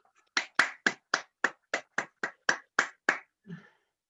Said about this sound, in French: Bravo, on vous applaudit.